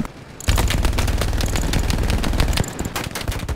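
Sustained automatic machine gun fire in the World War II shooter Hell Let Loose, a rapid, dense burst of shots that starts abruptly and keeps going for several seconds, loud and close, briefly dropping before resuming.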